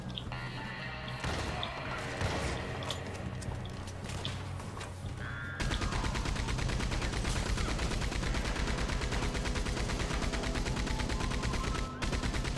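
Rapid gunfire in the video game Red Dead, with dense bursts and volleys of shots, some overlapping and sustained, loud and close, with a brief pause near the end.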